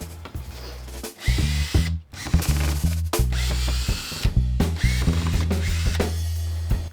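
A power tool bit cuts into a hardwood workpiece for a scrap-wood drum, heard as loud, close bursts of buzzing and rumbling with a short pause near two seconds, then steady cutting with small shifts in pitch.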